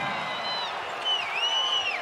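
Home basketball crowd at Utah Valley during an NIT quarterfinal against Cincinnati, a steady roar of cheering with whoops and whistles rising over it, dense and continuous throughout.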